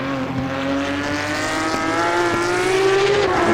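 Porsche race car in Assetto Corsa Competizione, a steady droning engine note held at high revs with a slowly rising pitch, loud and continuous from inside the car, without talk.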